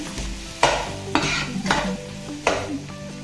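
Lentils fry in a pan for green cucumber chutney, a soft sizzle punctuated by four distinct scraping stirs of a spoon against the pan, no talking.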